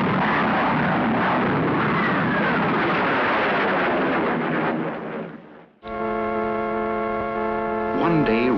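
A loud, broad roar from an aircraft pulling out of supersonic flight sweeps through, then cuts off abruptly and gives way to a steady tonal hum.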